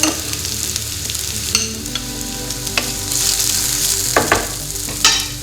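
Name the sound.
chili added to pan and frying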